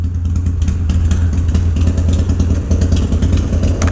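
A 1984 Harley-Davidson FXRP V-twin runs close and loud, its lumpy, pulsing engine note rumbling steadily with light clatter throughout.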